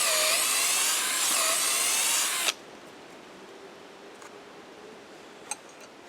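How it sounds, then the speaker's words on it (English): Cordless drill boring a pre-drilled hole into a tree trunk for climbing pegs outdoors, a loud, steady high whine for about two and a half seconds that cuts off abruptly, followed by quiet ambience with faint clicks. "drilling in, because I've noticed over the years trying to hand drill these without a pre-drill hole can be pretty tiring"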